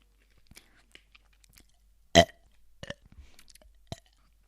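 A single loud, close burp after drinking soda, set among faint mouth and swallowing noises, with softer small gulps and smacks following it.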